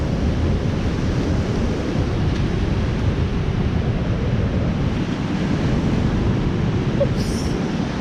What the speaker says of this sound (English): So, look at the waves.